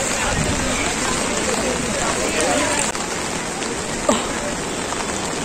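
Heavy rain pours steadily in the Kashmir valley near Pahalgam, a dense close hiss of drops on surfaces with a few louder splashes, continuous and alone without talk.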